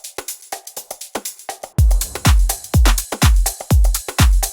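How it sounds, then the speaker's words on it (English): A punchy percussion loop plays alone: sharp, evenly spaced hits, joined halfway through by deep booming low drum strikes in a steady rhythm. "Now let's check out these percussion loops."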